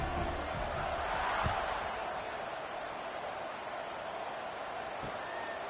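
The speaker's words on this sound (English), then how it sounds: "this crowd is buzzing after that last score" Football stadium crowd in an NCAA college game buzzing after a score, a steady broad crowd roar that runs throughout and sits fairly faint, with a couple of brief sharp knocks.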